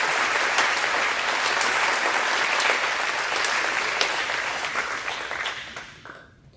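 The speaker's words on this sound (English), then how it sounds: "Can we give a round of applause to our all-conference honorees?" Sustained applause from a banquet audience at a school athletic awards event, a dense, even wash of clapping from many hands that holds steady and then tapers away at the end.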